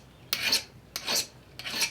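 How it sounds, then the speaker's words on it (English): A hand file rasps across metal during a blacksmithing demonstration, three steady push strokes about half a second each with short pauses between, close and clear with no talk. "That's how you file."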